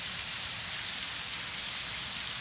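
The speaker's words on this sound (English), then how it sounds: "Like bananas all this rain." Heavy rain falls steadily and densely, a constant broadband hiss of drops on surfaces with no pauses, close and loud throughout with no voices.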